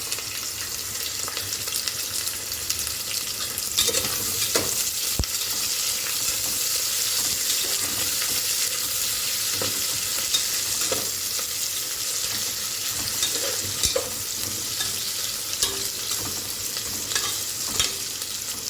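Onions frying in a pressure cooker for chicken biryani, a dense, steady sizzle carrying on throughout with occasional sharp ladle scrapes and clicks, close by and without speech.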